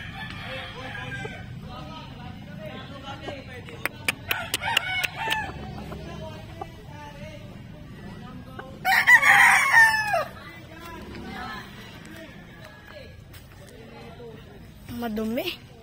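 Backyard gamefowl roosters, including a green-legged stag, crow in a few loud, strained calls, one close and strong midway, over ongoing talk, soft clucking and yard background noise.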